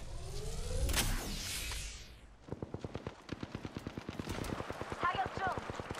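Video-game gunfire opens with a loud blast and roar, then a fast rhythmic burst of automatic shots rattles on for several seconds while a voice speaks partway through.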